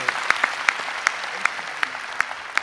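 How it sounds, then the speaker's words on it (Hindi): Audience at a Hindi kavi sammelan poetry gathering claps, a fairly sparse, near patter of individual hand claps with sharp irregular peaks, lasting steadily throughout without speech. "आइए एक बार जरा जोरदार तालियां बजा के।"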